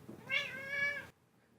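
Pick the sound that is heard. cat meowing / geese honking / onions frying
cat meowing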